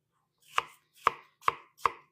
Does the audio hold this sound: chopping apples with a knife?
yes